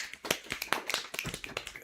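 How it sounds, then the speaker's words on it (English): A small audience gives the chairman a brief round of applause, with sparse, uneven hand claps close by and no voices. "can acknowledge Chairman's contribution maybe by a round of applause"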